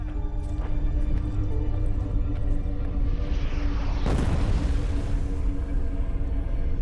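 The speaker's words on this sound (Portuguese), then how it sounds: "Há muitos disparos, principalmente de morteiros." A single deep boom of mortar fire bursts through a constant rumbling background of battle on Okinawa in 1945 about midway, then trails off into a wash of noise.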